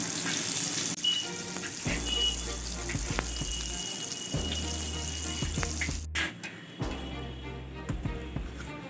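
Stuffed green chillies fry in a pan, a steady soft sizzle with a few clinks and turning noises, fairly quiet, and a voice talks at times over it.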